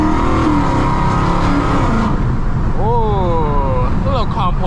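A 1000 hp Dodge Challenger Hellcat Redeye accelerating on a night drive, a loud deep engine drone heard from inside the cabin that rises in pitch through quick gear changes, with a voice speaking briefly over it.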